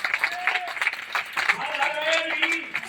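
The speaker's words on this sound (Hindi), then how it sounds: "एक बार जोरदार ताली बजा दीजिए।" An audience at a gathering breaks into uneven applause, patchy clapping rising and falling while voices and cheers mix in over the top.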